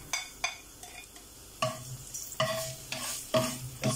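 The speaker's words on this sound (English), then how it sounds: "Stir it in medium heat so it doesn't burn our garlic." Garlic sizzles in cooking oil over medium heat in a pan while it is stirred, with repeated scraping strokes and clinks over a steady fry, close and clear.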